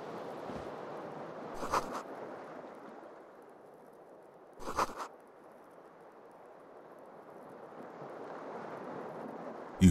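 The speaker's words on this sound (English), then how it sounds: "Keys are clinking in the pocket of your flare-cut pants." Keys on a key ring jingle in a trouser pocket in the Disco Elysium video game, two short metallic rattles a few seconds apart over a steady low ambient hum.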